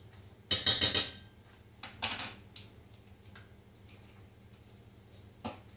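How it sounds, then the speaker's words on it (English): A spoon knocks against a pan of rice pudding mix with sweetener and vanilla, a quick cluster of bright metallic clinks, then a couple of softer taps and one faint knock after a quiet pause. "I'm going to give that a stir."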